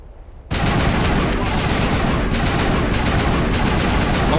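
Mass Effect weapon fire starts abruptly and continues as a dense, loud, sustained burst of rapid shots with no pause.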